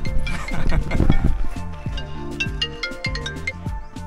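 A mobile phone rings with an incoming call during a trek to Gorakhgad Fort: a loud melodic ringtone plays on continuously, close by, with some faint outdoor background noise.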